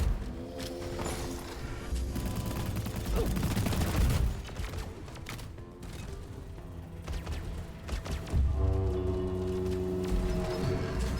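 Heavy automatic gunfire in the video game Deep Rock Galactic while shooting the caretaker, dense overlapping bursts with crashes and mechanical clatter, loud and continuous with brief dips between volleys.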